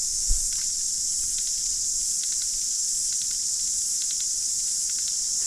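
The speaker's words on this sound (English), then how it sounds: "Cicadas." Cicadas buzz in a high, continuous drone during a roadside stop near Tamahere, New Zealand, with brief tick-like pulses rising over the steady shrill and a soft bump near the start.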